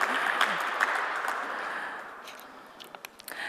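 Audience applause at a panel session on the city and cycling, a brief burst of clapping that fades over a few seconds with a few scattered claps trailing at the end.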